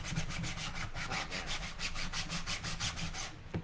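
A prop part is sanded by hand with quick, rhythmic back-and-forth strokes, loud and close, about a dozen even passes and no talking.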